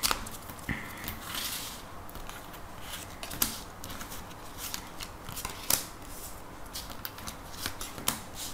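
Tarot cards being shuffled for a reading, soft dry riffles and sharp flicking snaps at irregular intervals, close and fairly quiet, with no voice.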